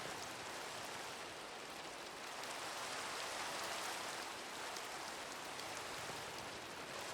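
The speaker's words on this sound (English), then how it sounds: "It's raining." Rain falling in Minecraft, a steady, even hiss of drops on surfaces that holds at a constant level without pauses and plays quietly in the background with no one talking.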